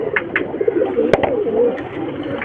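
A breeding pigeon coos repeatedly in soft, low, rolling calls, close by, with a few faint chirps and a brief click.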